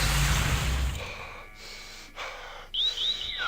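Heavy breathing in The Journeyman Project video game: a rough, close breath followed by several short gasping inhales and exhales, with a faint electronic tone and a quick rising chirp near the end.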